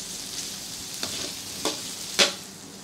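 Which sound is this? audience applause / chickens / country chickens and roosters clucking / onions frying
onions frying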